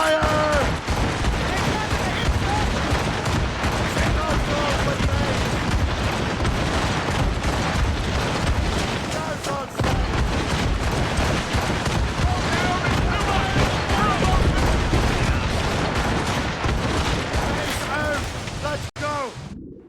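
Ship cannons in a naval battle from the Assassin's Creed Rogue video game fire in a dense, continuous barrage of loud booms and blasts, with crew voices shouting orders throughout.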